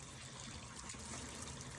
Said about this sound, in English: Look at that water H2O going down.